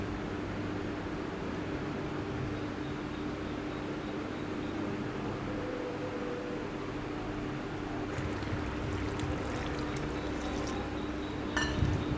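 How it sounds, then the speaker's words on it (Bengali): Lukewarm water poured into a pan of frying masala for Bengali matar dal, a steady soft wash of liquid under kitchen hiss, with a brief clatter near the end. "এরপরে হালকা গরম জল দিচ্ছি"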